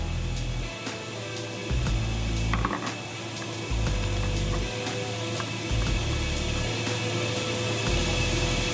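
Screws being tightened down on a modular holster mount, a steady run of small ratcheting, clicking tool turns over low rumbling handling noise, fairly close, with no talking.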